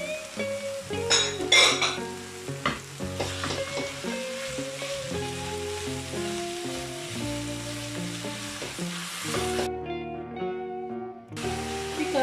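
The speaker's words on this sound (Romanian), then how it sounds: "Și călim totul pentru încă 2-3 minute. Este ceapa și ardeiul grat, voi adăuga și carnea tocată." Onion, bell pepper and minced meat sauté in a pan for spaghetti bolognese, producing a steady close sizzle broken by stirring scrapes and utensil clinks against the pan, with music running underneath and no speech.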